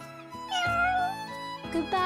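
Cats meow in the fantasy role-playing game Shining Resonance Refrain, two or three short tonal mews over soft background music, near and fairly clear.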